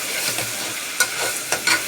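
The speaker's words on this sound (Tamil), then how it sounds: "சிக்கன் வந்து ஒரு 1/2 கிலோ எடுத்து வச்சுருக்கேன், அதுவும் சேர்த்து போட்டு நல்லா அந்த வெங்காயத்தோட மிக்ஸ் பண்ணுற மாதிரி நல்லா வதக்கிக்கோங்க" Half a kilo of chicken sautés with onion, ginger-garlic paste and curry leaves, giving a steady loud sizzle broken by three or four quick scraping stirs of a spoon against the pan, with no voices.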